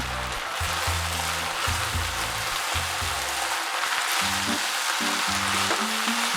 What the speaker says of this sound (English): Add the bean sprouts, the spring onion, and the cilantro. Stir briefly.